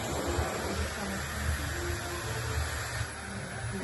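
A Dyson hair dryer blows a steady broadband rush of air at close range, running continuously with a low rumble beneath the hiss.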